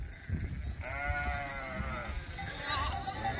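Sheep bleat in a field, a clear harmonic cry rising over outdoor rumble and shuffling, followed by fainter overlapping bleats from the flock at moderate distance.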